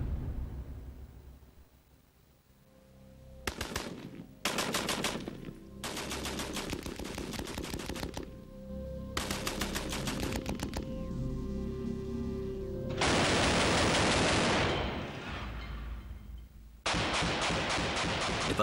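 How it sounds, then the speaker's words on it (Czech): Machine gun fire rakes an aluminium fuselage skin panel from a Messerschmitt 109 in loud, rapid bursts separated by short pauses, ending with two longer sustained volleys. "pokusí se náš střelec prorazit část trupu Messerschmittu 109"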